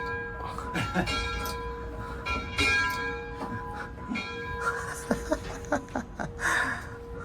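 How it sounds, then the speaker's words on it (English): An MTH Metro North RS-3 model locomotive's bell rings with sustained metallic tones, struck repeatedly near the microphone while people talk and react around it. "Is this the bell?"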